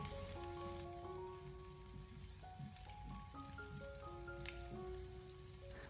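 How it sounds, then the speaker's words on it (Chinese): Minced garlic stir-fries gently in a little oil over low heat, giving a soft, steady crackle and sizzle that sits under louder melodic background music. "再下切好的蒜末，开小火给它翻炒一下"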